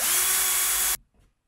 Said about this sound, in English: Get my drill, and I'm going to drill a hole in this.